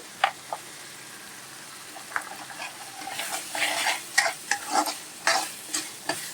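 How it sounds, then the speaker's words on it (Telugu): Andhra-style goat head meat curry fries in a pan with a soft, steady sizzle, while a spoon scrapes and stirs in sharp, irregular strokes close by. "ఇదిగోండి ఇలా బాగా వేయించుకోవాలి."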